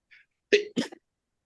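A single sharp sneeze, a quick breathy intake followed by an explosive burst, close and fairly loud, with no talking.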